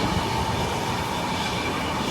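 Kerala Express passenger train rolling along, heard from inside the carriage as a steady, loud broadband rumble with rail noise throughout, no voices.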